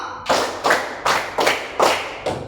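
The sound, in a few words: hand clapping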